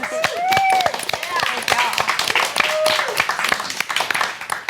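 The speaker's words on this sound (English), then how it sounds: "Let's give Carrie a round of applause." An audience at a women's livestream event applauds with a dense run of claps, mixed with cheering voices and nearby talk.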